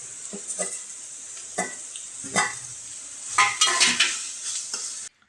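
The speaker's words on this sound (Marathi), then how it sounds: "तेल गरम झाला आणि आता कांदा टाकला आपण." Chopped onion in hot oil in a pan, a village mushroom dish being started, with scattered clinks of a utensil against the pan and bursts of sizzling spread across a few seconds, close and moderately loud.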